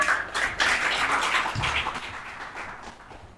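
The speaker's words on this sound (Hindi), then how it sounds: "एक बार जोरदार तालियां" An audience at a live Independence Day lecture event in India breaks into sustained applause, a dense wash of many hands clapping at moderate volume, fading slightly toward the end.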